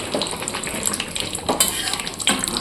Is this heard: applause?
no